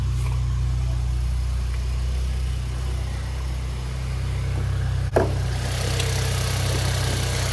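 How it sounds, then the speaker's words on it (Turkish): Hyundai Bayon 1.0 Turbo Smartstream three-cylinder petrol engine idling, a steady low hum throughout with one brief click near the end, no voices. "3 silindirli motorumuzu çalıştırdık"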